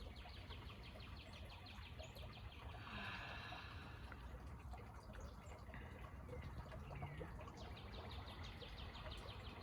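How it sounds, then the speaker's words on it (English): Birds chirp and sing outdoors on a spring day, faint repeated calls over a soft steady background hiss. "Listen to the birds."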